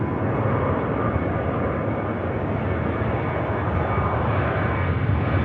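A Ryanair jet on its long takeoff roll at Manchester Airport: a heavy, sustained engine roar, loud and constant from start to finish, with no voices over it.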